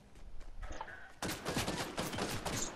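Sustained rapid gunfire in a shooter video game, quiet scattered sounds at first, then a loud burst of continuous shots that runs to the end, close and without talk.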